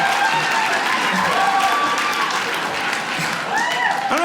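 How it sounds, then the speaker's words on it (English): A comedy-show audience applauds steadily for several seconds, dense clapping filling the room, with a few scattered cheers near the end. "I don't know if you're clapping because you think it's funny or you just agree with me."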